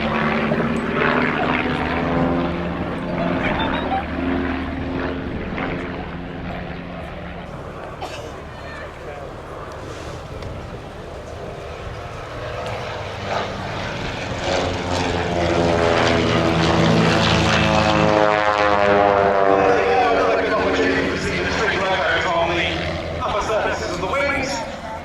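Propeller planes of the Trig Aerobatic team pass in formation at an air show, their engine drone swelling louder toward the end as they fly close by, under continuous commentary.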